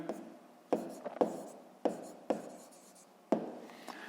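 A pen writes on paper during a sixth-grade maths exercise, producing a series of short scratchy strokes with sharp onsets at irregular intervals, close and fairly quiet.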